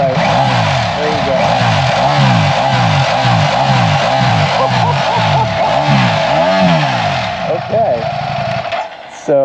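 A 2023 Ducati Panigale V4 S on its stock exhaust revs repeatedly, about a dozen rhythmic rising-and-falling swells from a close, loud engine, with someone talking over it before the revs drop away near the end.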